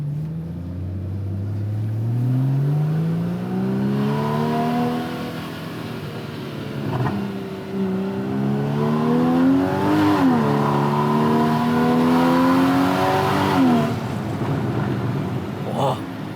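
A Porsche Cayman GTS engine revs up through rising gears, each pull climbing in pitch before a brief dip at the shift, loud and close, building to a sustained high wail near the end.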